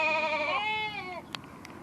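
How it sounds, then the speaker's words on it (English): A sheep lets out one drawn-out, wavering bleat of about a second, close and clear, fading into quiet background noise with a couple of faint ticks after it. "sheep,"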